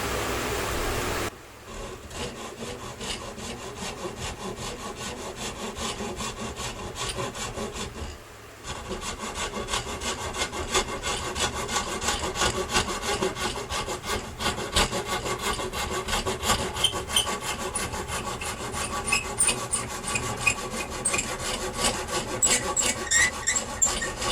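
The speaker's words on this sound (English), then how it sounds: "You can come at this and saw this down as well." A hand saw cuts steadily through wood for a bread box, its rasping strokes continuous and close, pausing briefly twice before resuming with growing intensity.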